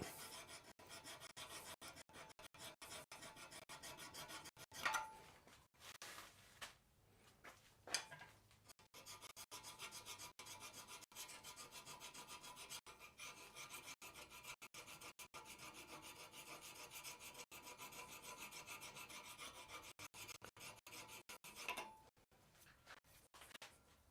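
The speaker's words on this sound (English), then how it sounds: "So I'm just going to draw the file over it." A steel file rasps steadily across a steel cross peen hammer head in a blacksmith shop, with continuous close scraping strokes for most of the stretch and a few sharper knocks and pauses between passes.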